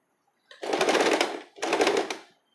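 Sewing machine stitching a cami top: two close, steady whirring runs of rapid needle stitching, each about a second long, with a short pause between them.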